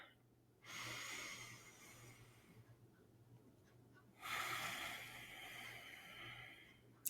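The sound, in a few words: Ujjayi yoga breathing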